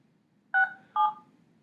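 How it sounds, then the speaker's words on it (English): Two short dual-tone keypad beeps from a phone as a number is dialed, evenly spaced and clear against a quiet background, with no talking. "once I've dialed the number and pressed send"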